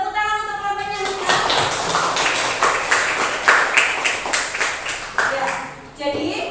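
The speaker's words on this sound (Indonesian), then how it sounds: "Tepuk tangan untuk kelompoknya Husna." Classroom students clap for a group in a mathematics lesson, a dense burst of rapid hand claps lasting several seconds that swells, then trails off as a voice returns near the end.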